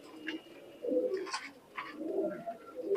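Pakistani high flyer teddy pigeons coo inside a loft, a few close, throaty calls in short bursts with faint chirps and background noise, no talking.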